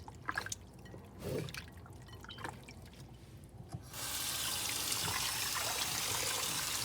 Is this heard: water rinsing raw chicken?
yes